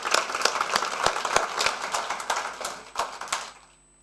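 An audience at a university lecture applauds a guest speaker, with dense, lively clapping that holds steady for about three seconds before quickly fading out to near silence.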